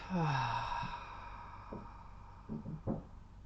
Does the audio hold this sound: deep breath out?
yes